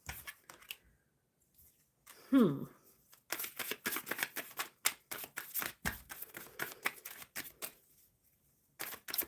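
Tarot cards being shuffled, a rapid series of crisp riffling flicks and taps close by, after a brief spoken sound at the start.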